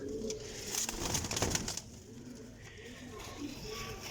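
Young pigeons coo in a loft, soft throaty calls rising over a steady background hiss, close and fairly loud, with a faint voice in the mix.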